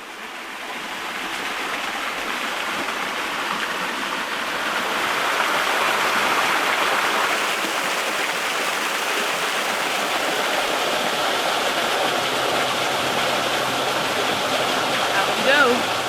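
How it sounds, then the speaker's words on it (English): Fresh water stream rushing out of a hillside in thick Patagonian vegetation, a steady, dense broadband wash that swells slightly partway through and holds constant, fairly close and continuous with no voices. "we could hear the fresh water rushing out from the hillside"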